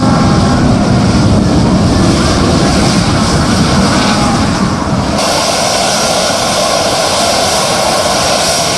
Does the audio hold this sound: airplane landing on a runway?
yes